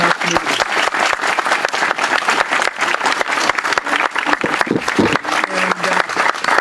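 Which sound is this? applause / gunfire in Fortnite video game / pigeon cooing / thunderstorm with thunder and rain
applause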